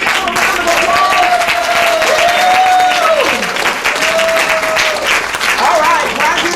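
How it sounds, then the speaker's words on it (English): A crowd at a 2023 WRAAP graduation breaks into a long, dense round of applause, steady throughout, with voices and cheers rising over the clapping. "Can we give him a round of applause?"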